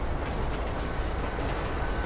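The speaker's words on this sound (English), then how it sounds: "That damn train is still going on." A train rumbles past in the video game GTA 5, a loud, continuous clattering roar of rolling wheels and wagons with no talk over it.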